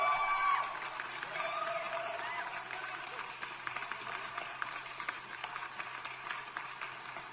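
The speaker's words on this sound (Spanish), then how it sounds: "vamos con los aplausos" Canned applause plays as a sound effect on a livestream, a dense, steady wash of clapping and crowd noise at low level that runs for several seconds without voices.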